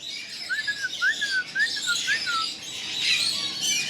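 Parrots at an exotic bird market in Pakistan chirp in a quick series of rising, warbling whistles, followed by a harsher squawk, close and clear over faint background noise.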